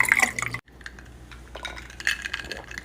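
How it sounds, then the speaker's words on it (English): Sweet tea is poured into a glass holding five ice cubes, giving a close liquid pour with bright clinks of ice, a brief pause, then more trickling and clinking, with no voices. "I fill my glass with tea."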